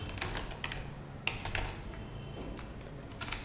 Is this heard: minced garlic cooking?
no